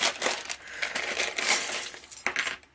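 Small metal steampunk key charms clink and jingle together continuously in bright, close rattling bursts, with no talking.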